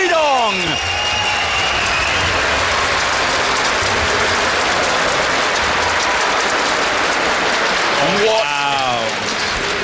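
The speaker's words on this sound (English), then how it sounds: "You guys are cheering so loud for him" Large crowd at a StarCraft 2 WCS Season 2 Finals semifinal roars with sustained applause and cheering, loud and dense throughout, with a caster's voice breaking in at the start and end.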